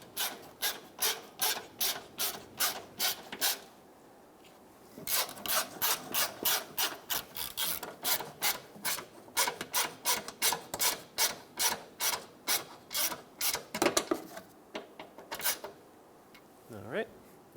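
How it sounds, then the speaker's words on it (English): A ratchet drives screws into the fuel tank shield of a 2012-2017 Toyota Camry. It clicks in fast, regular bursts of close, loud strokes, pauses briefly, then resumes, with a voice heard near the end. "Put in the screws."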